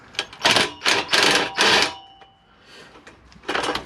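Ratchet or impact tool spinning bolts loose on a Subaru WRX exhaust, four loud close bursts in quick succession, a pause, then one more burst.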